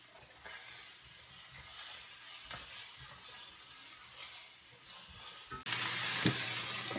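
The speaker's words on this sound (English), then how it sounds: "Have this on medium-high, and I'm just gonna keep stirring it" Seasoned grain-bowl leftovers sizzle steadily in a pan on medium-high heat, with soft stirring scrapes throughout and a sharp, louder burst of hissing near the end as more seasoning goes in.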